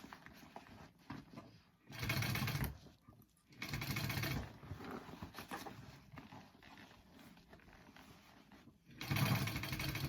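Sewing machine running in bursts while a shoulder bag is sewn. Three loud, close whirring runs of about a second or more each are separated by quieter handling noise.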